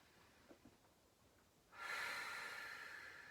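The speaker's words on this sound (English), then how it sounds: "take 3 deep breaths" Deep breathing during a yoga relaxation while lying on a mat: a few faint nasal sniffs, then one long, soft, airy exhale that stays close and fades slowly, with no talking.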